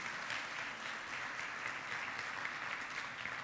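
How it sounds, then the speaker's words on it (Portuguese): Church congregation applauding strongly during a Portuguese-language communion service, a steady broadband wash of clapping held at even loudness throughout, with no pauses and no clear speech on top. "Dá um aplauso bem forte aí o Senhor"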